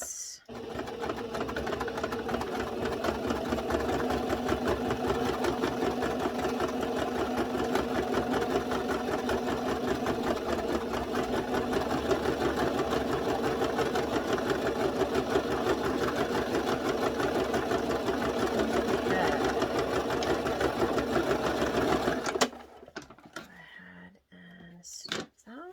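A sewing machine runs steadily for about twenty seconds, stitching across the bottom of a fabric drawstring bag with a close, continuous rapid whir before stopping abruptly; soft voice sounds faintly underneath.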